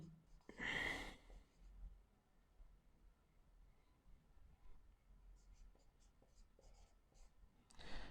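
A pen scratches out notes on paper in quiet, short faint strokes after a brief breathy sound at the start, close and soft.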